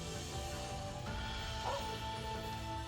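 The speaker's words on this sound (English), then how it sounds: "That's a dog." A dog in the video game Trails of Cold Steel II gives a brief bark partway through, set against steady, continuous game music.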